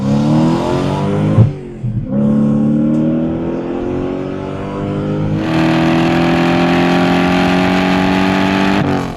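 A Toyota Supra with a swapped 3UZ V8 engine revving at about half throttle, loud and close, with a rising drone, a brief dip and gear change, then a sustained higher steady roar alone without speech.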